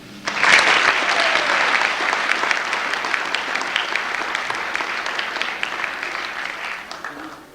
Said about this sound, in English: I would like everyone to give him a round of applause